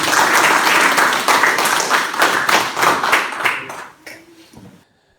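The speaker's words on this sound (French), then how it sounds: "Merci beaucoup, on peut l'applaudir." A church congregation applauds together, a dense wash of clapping that holds steady for several seconds, then thins out and fades into near silence.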